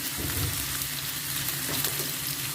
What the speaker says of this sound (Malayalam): ചെറുതായിട്ടൊന്ന് എണ്ണയിൽ വാട്ടിയെടുക്കാം